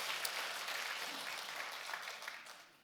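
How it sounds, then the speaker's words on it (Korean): A church congregation at a Sunday service applauds, a dense, steady burst of clapping from many people that fades out over a few seconds. "박수 한번 합시다."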